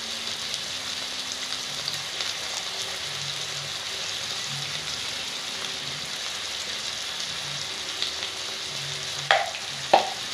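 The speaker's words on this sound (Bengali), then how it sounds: "বেগুন আর পেঁয়াজগুলো অল্প ভাজা ভাজা হয়ে গেছে" Eggplant and onions frying with turmeric, salt and chili powder for a hilsa-head taro leaf dish, a soft continuous sizzle like light rain, ending in two sharper clatters of utensil on pan.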